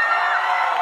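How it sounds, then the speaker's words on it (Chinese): A student audience at a campus singing contest, National Taiwan Normal University Linkou campus, roars with cheering and high screams for a few moments, a dense sustained wall of crowd noise. "掌声加尖叫啊！"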